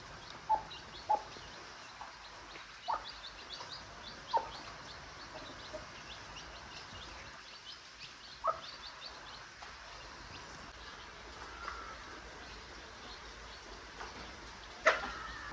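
A hen with newly hatched chicks, soft clucks and faint peeps scattered at irregular intervals at moderate distance over quiet background.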